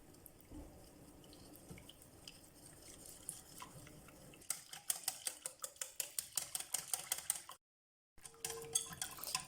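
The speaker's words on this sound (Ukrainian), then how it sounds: "і перемішуємо все до однорідності." Pancake batter stirred until smooth in a bowl, a quiet wet swish at first, then a quick run of rhythmic close scraping strokes against the bowl, broken by a brief cut to silence before resuming.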